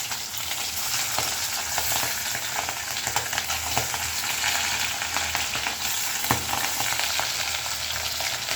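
Fish fry in a pan, giving a dense, continuous sizzle with occasional soft knocks and scrapes as pieces are moved, steady and close throughout.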